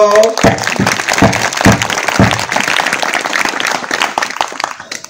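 An audience at a religious sermon breaks into a burst of loud applause. Many hands clap at once, the sound swells quickly, holds for a few seconds and then fades.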